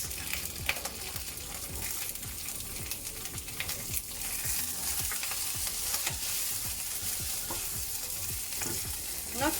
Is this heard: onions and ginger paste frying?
yes